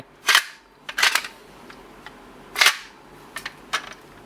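A few sharp plastic clicks and snaps from a Metsubouji Jinrai Zetsumerise Key toy transformation device, irregularly spaced, close by and fairly loud, with brief mechanical rattles between them.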